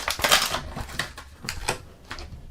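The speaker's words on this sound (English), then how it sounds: "Pop his head out." A plastic action figure's head being popped off, with a run of sharp, close plastic clicks and snaps spread over a couple of seconds.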